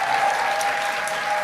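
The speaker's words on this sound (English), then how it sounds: "Can we get another round of applause?" An audience at a graduation ceremony at the Apollo theater keeps up a steady, even wash of applause, moderately loud and continuous with no voices over it.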